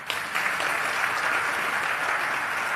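A crowd at a devotional gathering breaks into applause, a short, dense burst of many people clapping that starts sharply and holds at a steady level for a few seconds.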